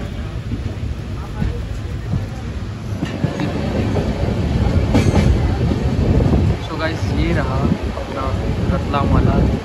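Karnavati Express moving through Vadodara Junction at night, a steady loud rumble of rolling wheels and rail clatter that swells slightly, with faint voices in the background.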